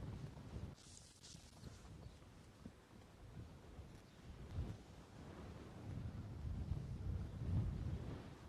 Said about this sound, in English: Like a August wind